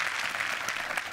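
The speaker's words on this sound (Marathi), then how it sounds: "जोरदार टाळ्यांनी या मंचावरती आपण स्वागत करूयात राजन भिसे सरांचं" A studio audience at the Marathi TV comedy show Chala Hawa Yeu Dya breaks into brief, dense applause to welcome Rajan Bhise, a steady wash of clapping throughout.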